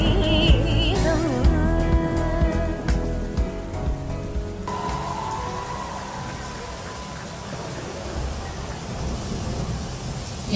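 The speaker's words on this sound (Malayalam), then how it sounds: "എന്തൊരു കൊടും മഴയായത്." Heavy rain pours down in a steady broadband hiss that continues throughout, with faint music and background sounds early on beneath it.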